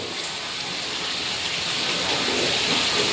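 A downpour arriving after a long break hammers steadily and close, a thick broadband wash of falling water that grows a little louder toward the end, with no one speaking.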